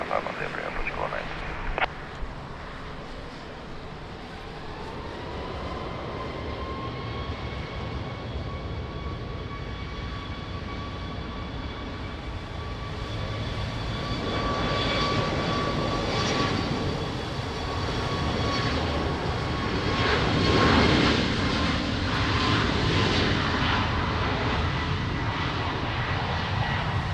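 Airliner taking off from runway 20 at Lisbon Airport in the rain, a steady jet engine roar with a rising whine that swells and grows louder toward the end, under faint radio chatter.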